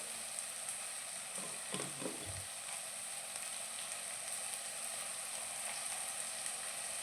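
Onion and salt sauté in a pan with a soft, continuous sizzle, fairly quiet and even, broken briefly by a couple of spoon scrapes early on.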